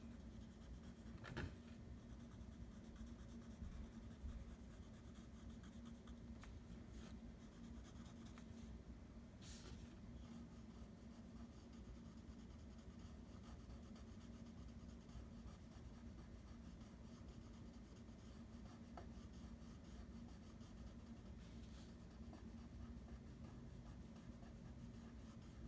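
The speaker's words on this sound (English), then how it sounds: "I'm not coloring too bold right now because I'm going to add some other colors on" Colored pencil strokes rub lightly across paper with a steady, soft scratching texture throughout, close and quiet, with no voice over it.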